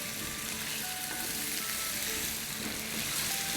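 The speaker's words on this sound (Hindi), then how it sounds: "आलूओं को हमने जब तक भूनना है जब तक कि इसका कलर चेंज ना हो जाए" Potatoes frying in a pan, a continuous soft crackling sizzle heard close and fairly quiet, steady throughout with no voices.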